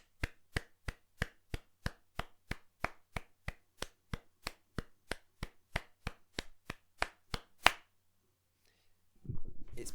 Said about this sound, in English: I'm going to clap this rhythm for you